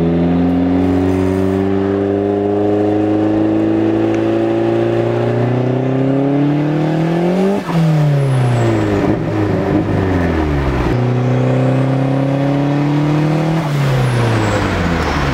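A turbocharged Mazda Miata engine rumbles steadily nearby, holding a low, even idle running rich, with slight drifts in pitch throughout.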